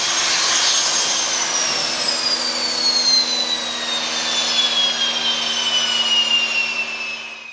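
A Rolls-Royce Spey 205 jet engine runs steadily on a test stand during an afterburner reheat attempt, a loud continuous roar with a high whine slowly falling in pitch throughout.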